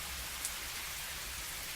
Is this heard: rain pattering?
yes